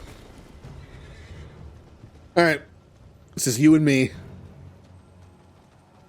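A horse in the video game Elden Ring gives two loud, close whinnies, the second longer, with a faint beat of hooves beneath and someone speaking quietly before them.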